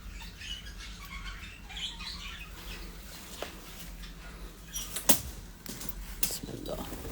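English budgerigars in an aviary on a bird farm give off faint, scattered chirps and a couple of sharper squawks over a steady low background murmur.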